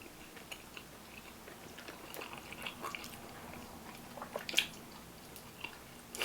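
Someone chews barbecue ribs from a Cajun and Latin food court, with close, quiet, irregular wet bites and squishy mastication over a low background hum.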